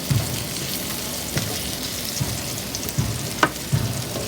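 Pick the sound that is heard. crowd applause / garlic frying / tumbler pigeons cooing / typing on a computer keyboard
garlic frying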